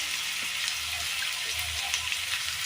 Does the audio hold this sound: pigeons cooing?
no